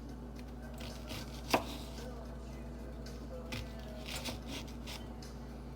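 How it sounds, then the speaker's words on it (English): A knife chops an onion on a board in a kitchen, with one sharp close chop followed by quieter scattered cuts over a steady background hum. "he might need eye protection while chopping this onion"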